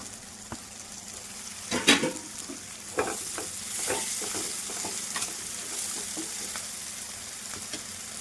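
Chicken with tomatoes and green chilies frying in a pan, a soft steady sizzle with a burst of stirring clatter near the start and a few scattered scrapes after, close and without talking.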